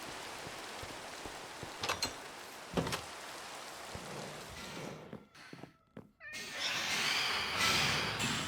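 A cat meows in Minecraft's ATM9 Skyblock modpack, a couple of short, fairly faint mews over a rain-like hiss, followed by a brief quiet gap and then louder rushing game ambience.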